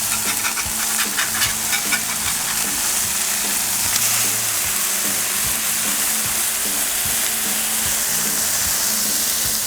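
Smash burgers sear on a Blackstone griddle with a steady, dense sizzle and crackle, punctuated by faint scraping clicks, continuous and close with no voices.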